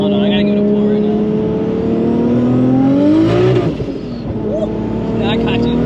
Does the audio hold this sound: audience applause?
no